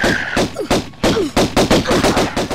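Pistol fire in Tomb Raider: Unfinished Business, a rapid string of loud, close shots, each with a short echoing tail, coming in quick irregular pairs and runs.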